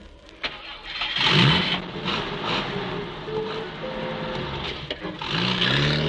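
A car engine turns over and catches, then revs and pulls away, a steady mid-range rumble holding through to the end.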